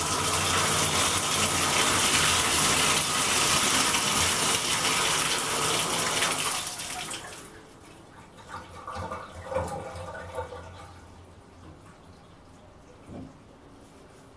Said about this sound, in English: Now, let's turn the water on and test the valve.